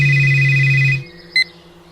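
A mobile phone ringtone for an incoming call plays loudly and steadily for about a second, cuts off, and is followed by a brief, fainter electronic beep.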